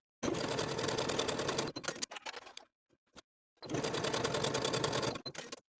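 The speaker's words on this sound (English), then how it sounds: "Sew your shoulder seams with a 3/8 inch seam allowance" A sewing machine stitches shoulder seams in two rapid, steady bursts separated by a short pause with a few light clicks and handling noises, heard close and alone.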